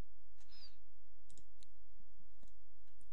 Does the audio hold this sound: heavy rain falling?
no